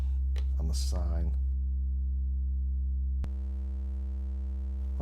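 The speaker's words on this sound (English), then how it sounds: "Noise and the sine." A Cre8audio East Beast synthesizer holds a steady sine-like tone with a burst of hissy noise at the start, a brief voice over it, then a sharp click and a brighter buzzy tone continuing alone.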